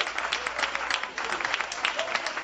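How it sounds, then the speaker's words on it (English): Supporters cheer and applaud at a Republican campaign rally in Yuma for Governor Doug Ducey and Martha McSally, a dense, steady wash of crowd noise with scattered claps and shouts throughout. "Supporters were heard cheering in support for the Republican candidates as the rally began"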